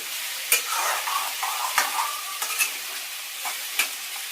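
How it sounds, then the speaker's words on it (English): Finely chopped tomato stir-fried for spicy Maggi, a bright steady sizzle with about five sharp spatula knocks against the pan at irregular intervals, close and clear with no voices. "Now you can put the fine chop tomato, and make sure you stir and fry it properly."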